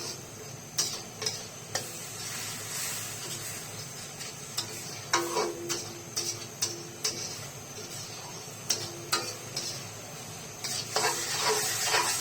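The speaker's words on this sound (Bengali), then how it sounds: "পেঁয়াজ ভাজা হয়ে গেছে" Chopped onion and green chilli sizzle and fry in a pan while a spatula stirs and scrapes, producing repeated sharp taps and clicks over a soft, continuous crackle.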